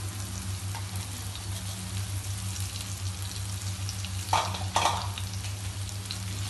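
Daal mash fries and is stirred in a pan, a steady soft sizzle over a low hum, with a couple of louder scraping stirs near the end and no talking.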